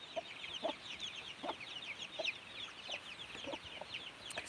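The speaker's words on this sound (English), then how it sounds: "This is my white rooster." A white rooster in a barnyard gives short, repeated clucks at irregular intervals, fairly close and moderately loud, over a busy bed of small bird chatter and farmyard background.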